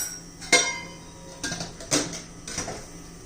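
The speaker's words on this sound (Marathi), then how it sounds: "हे छान मिक्स करून घेऊया आता" Spoon clattering against a bowl while pumpkin vadi batter is mixed with chilli, turmeric and red chilli powder, a few sharp clinks spaced apart over a low background hum, close by.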